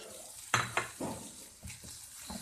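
Mashed eggplant bharta is stirred in a pan: a few close scraping and clattering strokes with soft sizzling between, alone with no talk.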